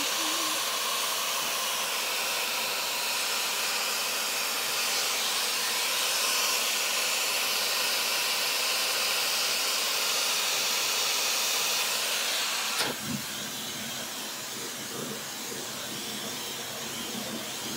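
A blow dryer fitted with a diffuser runs on curly hair, a steady loud whooshing hiss with no break, shifting to a slightly different airflow tone after a brief click near the end.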